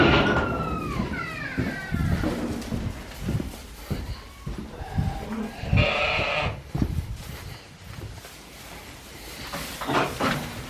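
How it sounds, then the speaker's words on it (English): A new group of ewes bleats inside a livestock trailer, with several overlapping sheep calls close by, mixed with metallic rattles and knocks from the trailer as the animals shift around. "here in the front of the trailer, we got this new group of ewes"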